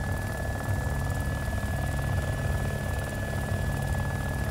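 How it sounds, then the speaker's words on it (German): A helicopter in the video game DayZ drones steadily throughout, a constant loud rotor and engine hum with a high tonal whine on top and no talk. "Ich bin im Heli."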